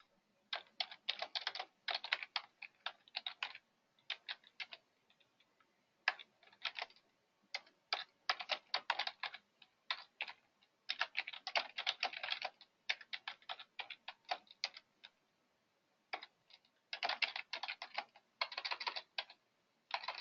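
Quick, light clicking of fingers typing on a computer keyboard, coming in irregular bursts with short pauses between them, close by and quiet, with no voices.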